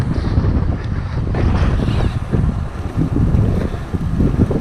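Strong wind blowing across a road bike during a January ride with a tailwind, a loud continuous close rumble and buffeting on the microphone with no talk.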